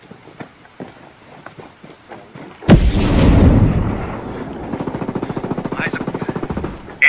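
A grenade blast in the tactical shooter Ghost Recon Breakpoint, a sudden loud boom that rolls on for a couple of seconds, then a stretch of rapid automatic gunfire.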